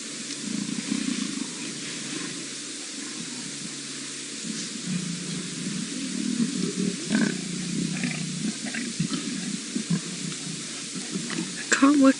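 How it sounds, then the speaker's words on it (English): Lions growl low and rumbling at a buffalo kill in the bush, a steady deep rumble under outdoor ambience with occasional rustles and a louder burst near the end. "Are we hearing that low growl?"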